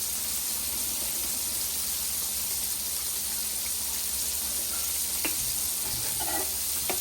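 Eel fish frying in a pan produces a constant loud sizzle and hiss, with a few faint clinks near the end.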